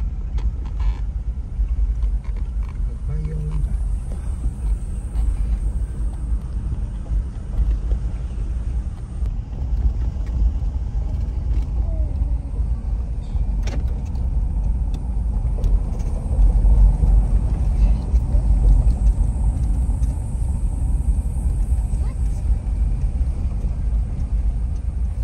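Heavy road traffic in Cebu: a steady low rumble of passing cars and engines with some wind noise, continuous and fairly loud throughout, no clear talk.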